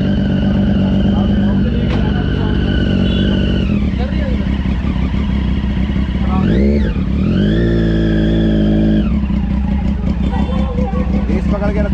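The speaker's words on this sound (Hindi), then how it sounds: "रेस पकड़ के रखो रेस दे के रखो" A new superbike's engine holds a loud, sustained droning idle, then revs up and falls back once midway before settling into a steady drone, with voices mixed in.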